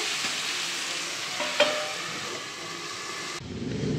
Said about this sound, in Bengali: ব্যাস পেঁয়াজটা এবার একটু ভাজা ভাজা হোক